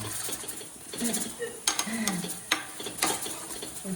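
Close, quiet scraping and clinking of a spoon stirring Maggi noodles with secret masala in a pot, in irregular strokes with soft sizzling underneath.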